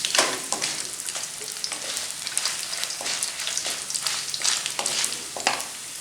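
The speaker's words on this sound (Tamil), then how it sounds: "புதினா, கருவேப்பிலை, மல்லி எல்லாமே வந்து இப்போ இதோட நம்ம போட்டு வதக்கணும்." Mint, curry leaves, coriander and fried green chillies sautéing in hot oil for an omavalli thokku, a steady close sizzle and crackle with repeated sharp stirring scrapes, no voices.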